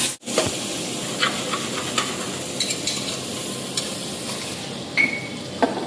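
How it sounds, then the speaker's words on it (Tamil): Onions frying and being stirred in a pan for chicken biryani, a steady close sizzle with soft scraping strokes of the spoon recurring every second or so, no talking. "அதுக்கடுத்து அந்த வெங்காயத்தையும் போட்டு நல்லா கிளறி விடணும்."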